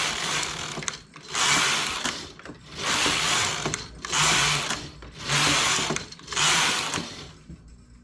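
A domestic knitting machine works rows of a sweater sleeve, its carriage swishing across the needle bed in about six regular passes. Each pass is separated by a brief pause, and the sound is moderately loud with no talking.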